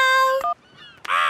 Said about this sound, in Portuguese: As gaivotas estão comendo as framboesas do vovô.